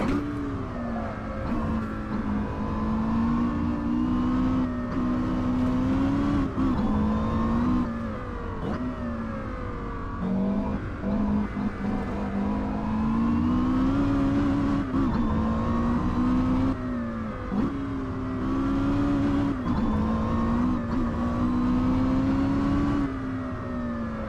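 A Porsche Carrera GT engine revs hard and steadily, pitch rising and dipping through gear changes including a double-clutch shift to third, a loud continuous wail heard from inside the car with no talking.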